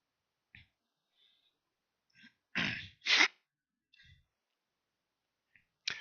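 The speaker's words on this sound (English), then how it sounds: "Apologies again for all the schnorfling, sniffling, coughing" Sniffling and coughing from someone with a cold come as a few scattered bursts, two louder close coughs in the middle and faint sniffs around them, alone in a quiet room.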